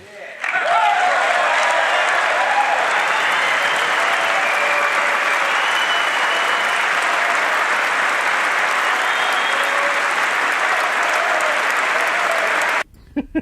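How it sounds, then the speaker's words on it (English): Sustained, loud applause fills a large chamber during a presidential State of the Union address, a dense unbroken wash of many hands clapping for over ten seconds before stopping abruptly. "There were actually a couple Democrats that shot up to that and started applauding"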